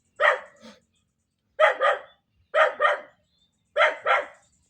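A dog barks in four clear bursts, mostly quick doubled barks, close and loud, with silence in between.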